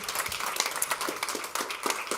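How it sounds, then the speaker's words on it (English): A short burst of audience applause for a presenter at an EU Industry Days business session, an even patter of many hands held at moderate level from start to finish. "Then an applause for Julia Dorobantu"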